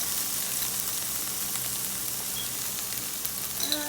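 Sweet potato breakfast hash with onions, peppers, bacon and chorizo frying as garlic goes in, a dense, even sizzle running loud and close the whole time, with a faint clink near the end.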